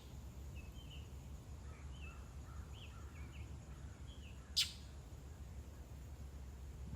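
A lone bird gives soft, faint little chirps in a loose series, followed by one sharper, brighter call, all over a quiet steady background.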